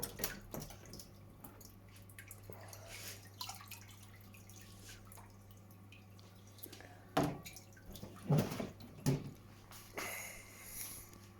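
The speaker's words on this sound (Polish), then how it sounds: "Już mam je rozmrożone w szklance z wodą i wlejemy." Thawed frozen worm fish food in water is poured from a glass into a 720-litre aquarium, faint trickles and a few splashy drips over a steady low hum of tank equipment.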